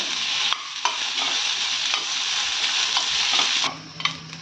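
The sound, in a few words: onion and garlic frying in oil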